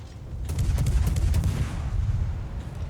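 Warship guns firing in World of Warships at an Atlanta cruiser: a rapid run of loud, sharp cannon reports over a deep rumbling bed that trails off toward the end.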